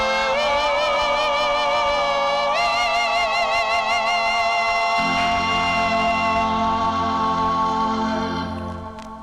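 A 1962 doo-wop 45 on the Whip label plays from vinyl: a full band with harmonizing vocals and steady rhythm, loud and continuous, fading out at the end.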